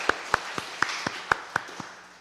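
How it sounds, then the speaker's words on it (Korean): Scattered hand claps from a small church congregation celebrating a member's birthday during a Sunday worship service, sparse and uneven, about eight sharp claps over two seconds, moderately near in a quiet hall. "우리 뭐 박수라도 쳐드리십시다"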